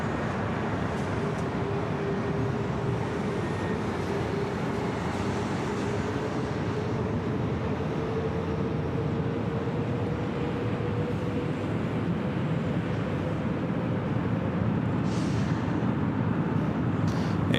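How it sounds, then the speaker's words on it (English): An Asiana airliner rolls for takeoff on runway 24 Left at Los Angeles International Airport, a steady distant jet roar with a faint rising whine that holds throughout, no voices present. "Asiana flight 201 and now rolling down at 24 left, heading back to Seoul"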